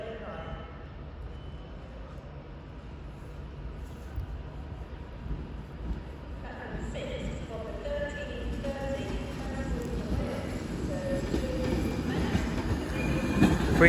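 A Liverpool-bound service train pulls out of Crewe station on the West Coast Main Line, its rumble and wheel noise building steadily louder, with faint squeals and rail clatter while a voice talks over it.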